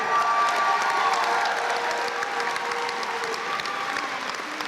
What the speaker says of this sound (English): We give a really big applause to Gwen Smith.